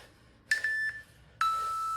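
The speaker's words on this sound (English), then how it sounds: "There we go, that's the timers." An interval timer at an AMRAP workout gives a short broken electronic beep, then after a pause a second, longer steady beep, clear and close with no voices.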